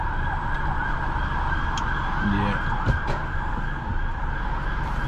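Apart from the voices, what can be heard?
police car siren in central London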